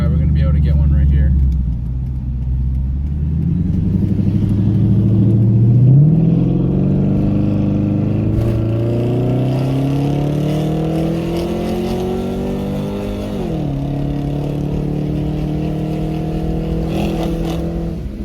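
A Dodge SRT8 Challenger with a Diablo tune pulls hard on an open road, its engine note climbing steadily through the gears, loud and close from inside the car with a steady roar throughout.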